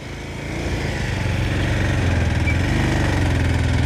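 Motorbike engines drone and labour on a landslide-damaged road in Arghakhanchi, a steady, close, rough engine note that swells slightly and holds loud without any talk.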